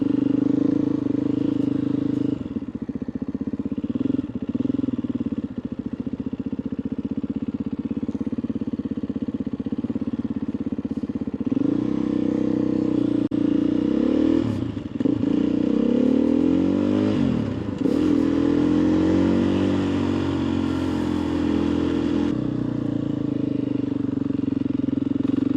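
A noisy motorcycle passing at a dock, its engine droning loudly throughout, with rising and falling revs and a clear pitch sweep as it goes by near the middle.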